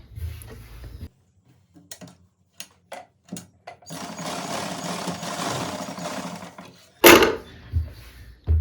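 A sewing machine stitches a pant seam in short bursts: a few brief clicks and taps, then a sustained whirring run of stitching, a sharp clatter, and more short mechanical starts, close and clear with no talking.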